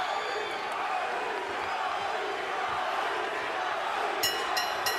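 A boxing arena crowd in Corpus Christi roars and yells during a sixth-round flurry, producing a dense, sustained wall of cheering with scattered shouts, loud and continuous throughout.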